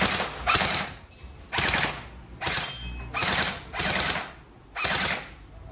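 A D-Bell M4A1 airsoft rifle fires full auto in six rapid bursts, each lasting roughly half a second, loud and close with brief gaps between.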